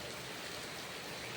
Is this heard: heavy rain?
yes